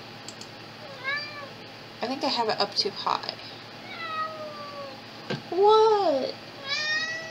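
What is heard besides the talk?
cat meowing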